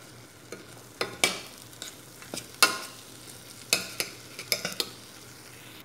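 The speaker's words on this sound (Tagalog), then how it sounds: "Naluto na natin sa butter yung biscuit natin." Crushed biscuits cooked and stirred in butter in a pan, with a steady low sizzle under repeated scraping and clinking stirring strokes, fairly close and moderately loud.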